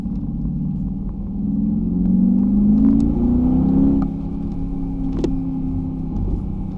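A 2021 Mercedes-Benz G63 accelerates on a drive. Its engine gives a steady, loud rumble that swells and rises in pitch midway, then settles back to a sustained drone, with no talking.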